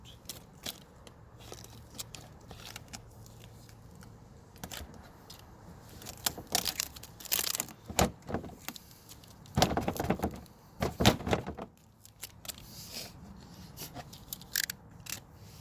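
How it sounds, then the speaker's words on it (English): A blade cuts and pulls vinyl wrap on a rusty front car bumper, producing scattered close crackles, scrapes and sharp plastic snaps that cluster into louder bursts midway, with quiet gaps between. "put your blade down inside and give it a cut"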